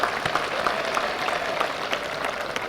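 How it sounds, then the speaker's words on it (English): Audience at a college honors program clapping for a campus events staff member and her team, a steady crowd applause with individual claps standing out, fairly close and even. "Give her a round of applause and her staff as well"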